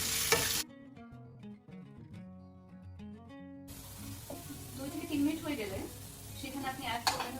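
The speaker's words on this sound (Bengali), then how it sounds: "সেখানে কিউব করা আলু দিয়ে দেবো অ্যান্ড সুন্দর করে দু তিন মিনিট পর্যন্ত ফ্রাই করবো" Cubed potatoes drop into hot oil and sizzle. A steady hissing fry rises and swells after a short stretch of background music, with occasional clatters over it.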